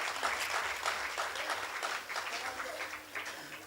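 Audience applause at a Hasya Kavi Sammelan poetry gathering, a steady wash of clapping from a large crowd lasting the whole moment, loud and continuous with slight swells.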